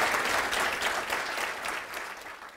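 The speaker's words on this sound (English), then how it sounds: "let's just give a big group of applause to all that" An audience at a closing session gives a short burst of steady, full applause that gently tapers off over a few seconds.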